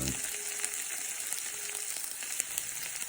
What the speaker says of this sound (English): the corned beef hash is starting to cook